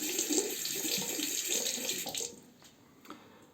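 Tap water runs steadily into a sink while a safety razor is rinsed, a close splashing hiss that fades after a couple of seconds, leaving faint drips.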